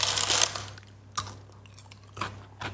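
Crunchy bites into a hot cheese-stuffed soft pretzel: a loud initial crunch, then a few quieter chewing crackles spaced out over a couple of seconds, close and without talk.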